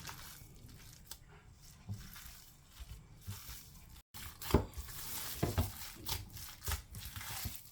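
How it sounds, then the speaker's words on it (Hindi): Shami kebab mixture being mixed with eggs makes faint, wet squishing and stirring sounds, soft and close, in an irregular rhythm with occasional louder squelches. "अब सारी चीज़ों को मिक्स कर लेते हैं।"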